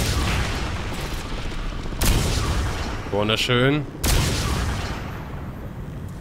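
Gunfire from the video game Crysis 3 in a few sharp, loud bursts, with someone speaking over and between the shots.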